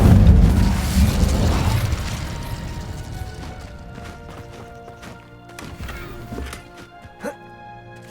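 Incendio fire spell cast in Hogwarts Legacy, a loud whooshing burst of flame that fades into a crackling, rumbling tail with a few smaller pops and clicks.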